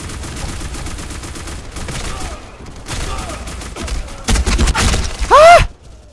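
Gunfire in the online shooter BlackSquad bursts out in rapid volleys, with loud shots and thuds, a short whistling sweep near the end, and game sounds filling the background.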